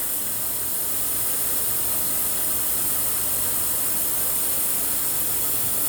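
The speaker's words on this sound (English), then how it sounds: "So let's put in my last bowl of water." Water poured from a bowl into a pot while making Jamaican sorrel drink, a steady close rushing splash that runs evenly from start to end.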